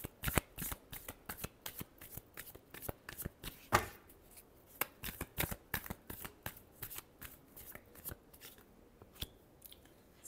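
Tarot cards being shuffled by hand, a quick run of crisp riffles and taps, close and fairly quiet, repeating in an uneven rhythm with no voices.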